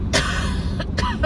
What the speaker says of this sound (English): it's so painful coughing like this.